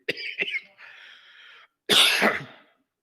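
During a church service, a few sharp coughs up close, a short pause, then one long raspy throat-clearing hack.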